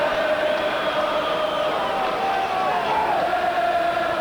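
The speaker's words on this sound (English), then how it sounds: "Biggest crowd of the season at Home Park" A football crowd at Home Park during the Plymouth v Exeter FA Cup match makes a steady, rumbling roar with a chant rising through it, held at a constant level under commentary.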